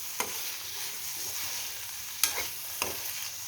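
Fish eggs fry in a pan with a steady soft sizzle, and a utensil scrapes and stirs through them in a few distinct sharp strokes. The sound is close but fairly quiet, with no voices.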